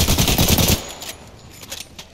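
Rapid automatic gunfire in Apex Legends Season 14 bursts loudly for under a second, then fades into quieter in-game ambience and distant shots.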